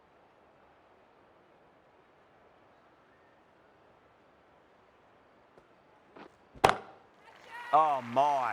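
Cricket bat striking the ball cleanly off the middle at a Women's Big Bash League match between Brisbane Heat and Melbourne Renegades, a single sharp crack after quiet crowd murmur, followed by an excited commentator.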